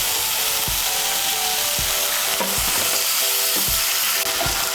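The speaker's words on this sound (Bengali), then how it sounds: "আদা বাটা আর কাঁচা লঙ্কা বাটাটাকে তেলের সঙ্গে মিশিয়ে নিয়ে একটু নাড়াচাড়া করে নেব।" Ginger and green chilli paste fries in oil in a pan while a spatula stirs it. A loud, constant sizzle runs under about six scraping strokes that come at a fairly regular pace, close by, with no voices.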